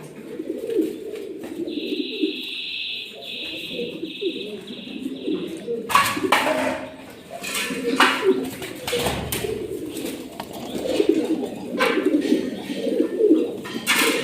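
Pigeons at a pigeon farm, including Sirazi and white Bombay breeds, coo softly and continuously, with occasional chirps, wing flutters and clattering cage movement nearby.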